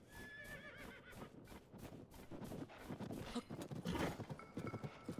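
A horse called in The Legend of Zelda: Tears of the Kingdom gives repeated whinnies and neighs, then runs in with a fast, close clip-clop of hooves that grows louder.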